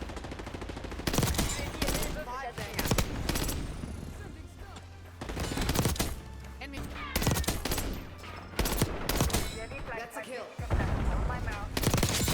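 Rapid bursts of AEK-973 rifle fire in a Black Ops 6 multiplayer match, sharp clustered shots recurring across the span with brief gaps, mixed with other gunfire and chatter from players talking over it.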